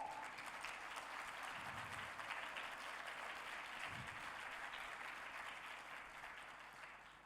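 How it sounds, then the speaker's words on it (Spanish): A church congregation applauds during a sermon. The clapping is broad and sustained, holding steady before slowly fading toward the end, with no speech over it. "Yo le daría un aplauso al Señor."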